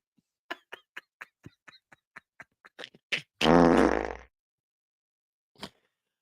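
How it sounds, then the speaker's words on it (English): A close fart: a run of short sputtering pops, then one loud sustained rasp of about a second, followed by quiet and a final faint pop. "It's really a good moment when you can catch a good fucking fart live"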